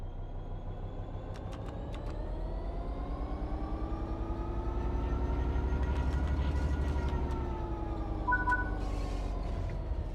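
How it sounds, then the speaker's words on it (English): A train in the video game Train Sim World 3 pulls away from a stop, its traction motors giving a steady whine that climbs in pitch as it gathers speed, over a continuous low rumble. "Apply some throttle to get the train moving."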